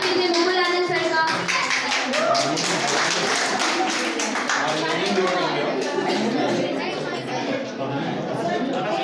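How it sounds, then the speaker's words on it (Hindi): An audience at a Teachers' Day celebration claps in a dense, steady burst of applause welcoming a teacher, with children's chatter and voices mixed in throughout. "प्लीज सर, जोरदार तालियों के साथ स्वागत कीजिए मुकुल आनंद सर का।"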